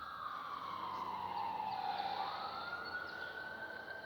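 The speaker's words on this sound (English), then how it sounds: "no, up the other way. That's a fire truck." A fire truck siren wailing in the distance, heard from a hillside on a weekday morning, rising and falling in a long sweeping tone that stays faint and far off through the clip with no talk over it.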